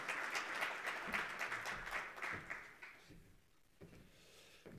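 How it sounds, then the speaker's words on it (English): Conference audience at Namibia's National Green Hydrogen Conference applauds a speaker taking the floor; dense clapping for about three seconds that then fades to scattered claps and quiet room noise. "A round of applause, please."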